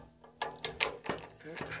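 A ratchet wrench loosening a bolt on a Unisaw table saw during motor and belt work, a few close mechanical clicks and clunks in quick succession.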